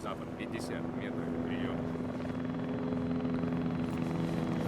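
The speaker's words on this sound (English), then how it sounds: "Alright, chopper's still up ahead." Helicopter in the video game ARMA 3, a steady distant rotor drone with a low engine hum that grows slightly louder, heard under game ambience with no talking.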